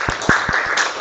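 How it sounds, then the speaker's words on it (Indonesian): A classroom gives applause for a student named Aisyah, heard as a few sparse, scattered claps over a murmur of room noise, brief and moderately close. "beri tepuk tangan buat Aisyah ya"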